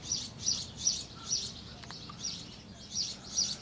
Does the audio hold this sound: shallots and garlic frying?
no